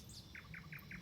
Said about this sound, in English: Those birds are nightingales.